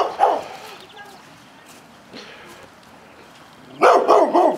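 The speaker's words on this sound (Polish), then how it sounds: "A tu jest pies." A guard dog in a village near Kaliningrad barks in a short burst at the start and again in a quick run of barks near the end, over a steady outdoor background with soft voices.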